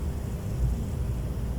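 An airplane flying low overhead produces a continuous muffled rumble, steady and fairly faint, with no voices over it.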